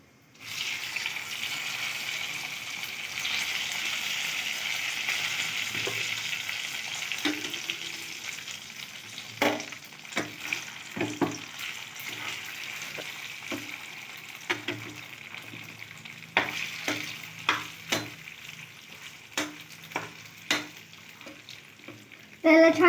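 Masala idli pieces tossed with spices in a frying pan, a soft sizzle that fades into a run of irregular scraping and tapping strokes from the stirring utensil.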